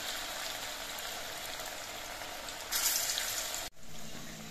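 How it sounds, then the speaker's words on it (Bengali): Radish pakoras sizzling in hot oil, a steady dense crackle that swells briefly louder before a short break, then resumes, close and continuous with no voices. "বেশ কয়েকটা করে পকোড়া একসঙ্গে ভেজে নিতে হবে।"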